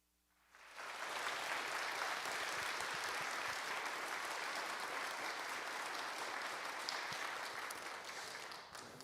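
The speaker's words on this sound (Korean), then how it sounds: "크게 환영의 박수를 부탁드리겠습니다" A church congregation at a Sunday service breaks into sustained applause welcoming a pastor, a dense wash of clapping that rises quickly after a quiet start and holds steady for about eight seconds.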